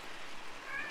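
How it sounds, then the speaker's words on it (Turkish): A short, faint in-game cat meow from the Roblox game Shark Bite rises near the end over a steady hiss of background noise. "Ay kedi sesleri de çıkıyor."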